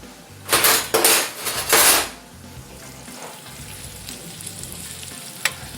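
Shrimp hit hot butter in a pan with three loud bursts of sizzling as they are moved around quickly, followed by a quieter, steady fry and a small clink near the end.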